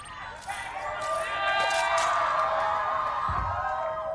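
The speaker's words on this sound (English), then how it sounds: "They're cheering!" A crowd cheers and roars at a Valorant esports match, Sentinels vs G2 at Champions Tour 2024 Americas Kickoff, a loud sustained swell of arena noise with excited voices mixed over it.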